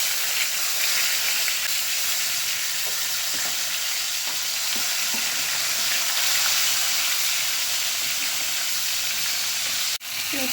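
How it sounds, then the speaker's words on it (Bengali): Onions frying in hot oil in a pan for a fish and tomato bhuna, a continuous loud sizzle with occasional stirring scrapes, close and steady, ending in a sudden brief break. "পেঁয়াজটা ভাজা হয়ে গেছে,"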